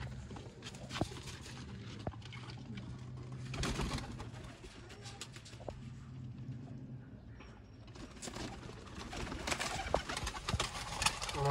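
A pair of black-faced Sialkoti pigeons coos steadily and close by, with soft rustling and occasional light clatter from the birds around them; no talk.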